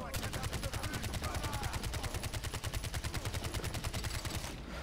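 In Far Cry 4, a long burst of automatic gunfire fires rapid shots at an even pace for several seconds, loud and close, then cuts off just before the end.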